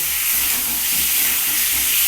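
Potatoes fry with ginger-garlic paste in a pan for a spiced potato curry, giving off a loud, steady broadband sizzling hiss that runs unbroken from start to finish with no talking.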